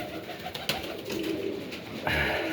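Pigeons in a dovecote coo softly and intermittently amid a noisy, rustling background, with a few sharp knocks and a louder shuffle near the end.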